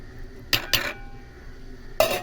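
Kitchen vessel handling while preparing homemade papaya, lemon and honey soap: three short metallic clinks and clatters, two close together near the start and one more after a quiet pause, close to the microphone.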